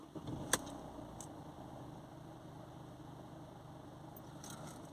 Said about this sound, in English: So that'll detect me starting the engine on its own there